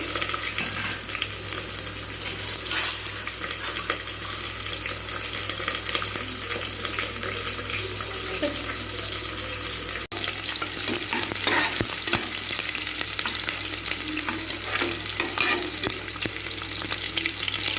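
Chopped onion frying in a pan for mint pulao, a dense, steady sizzle with intermittent stirring scrapes and clatter, heard close up with no talking.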